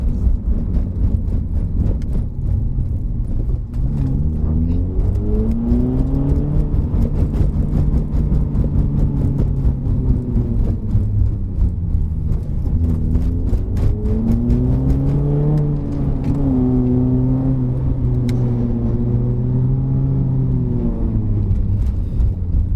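A modified 2012 Honda CR-Z fan car drives a mountain road at Genting, its engine droning loud and steady throughout with pitch rising and falling as it works through corners.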